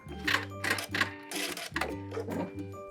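A sewing machine stitches a skirt onto a stretchy sweater to turn it into a dress, its needle running in quick bursts with short pauses between them and a steady motor hum underneath, close and clear with no talking.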